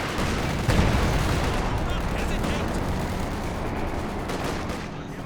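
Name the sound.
LEFH artillery barrage in video game Company of Heroes 2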